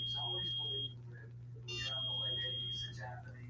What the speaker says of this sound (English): I hear this little beep, and I believe that's trying to tell me my battery's going to go down.